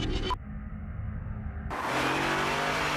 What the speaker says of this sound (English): The new BMW 5 Series, the ultimate driving machine.